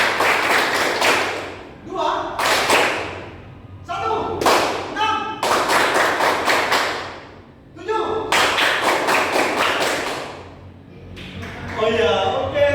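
A class claps a five-beat pattern in repeated loud bursts separated by short pauses, and voices call out numbers between rounds.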